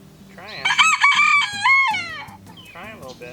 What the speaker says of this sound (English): we're gonna go feed these to the chickens